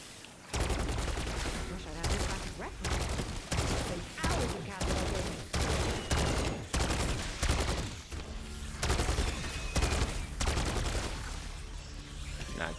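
Rapid bursts of gunfire in Black Ops 6 Zombies on the Citadelle des Morts map, loud repeated volleys and automatic fire spread across the whole stretch, with brief gaps between salvos.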